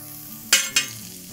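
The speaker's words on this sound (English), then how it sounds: "Next, we're going to add on our sausages." Sausages laid onto a hot plancha griddle give two quick, bright bursts of sizzle in close succession over a quiet background hiss, with no voices.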